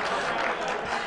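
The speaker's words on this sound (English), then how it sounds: "But the crowd cheers here." Applause and cheering from a poker tournament crowd keep up as a dense, steady wash of clapping for about a second.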